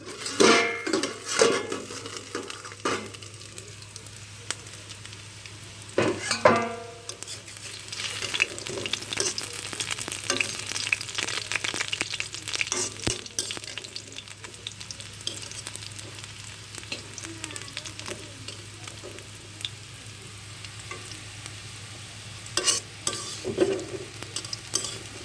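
Onions soften under a lid in a pan for magur fish-roe chops, giving a steady low sizzle with occasional stirring scrapes and clinks of a pot throughout, no voices.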